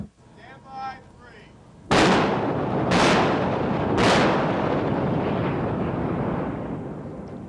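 A battleship's 16-inch guns fire three thunderous, close, booming shots about a second apart, with a rumbling roar trailing after them and faint voices just before.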